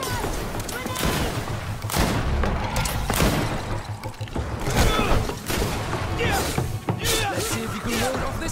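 Grenade blasts during a GreedFall battle: repeated loud booms and bursts crowd a dense, clattering fight, with mechanical creaks and impacts layered throughout.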